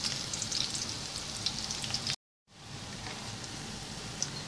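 Egg-dipped bread slices frying in a pan, a close, steady sizzle broken by a brief moment of silence before the crackle resumes.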